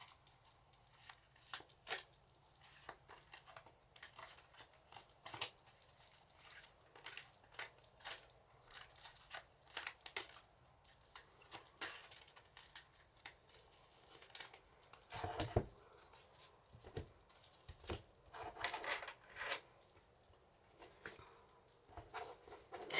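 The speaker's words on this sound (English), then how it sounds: "So, with that being said, let's have a good shuffle." Tarot card deck being shuffled by hand, a long run of soft irregular riffling, flicking and papery slaps close by, with no talking.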